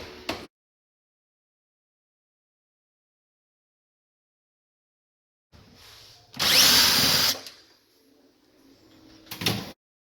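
A power tool, likely a drill, removing the grill of a Whirlpool microwave: long silence, then two short whirring bursts, one stronger and about two seconds long, with a brief final burst.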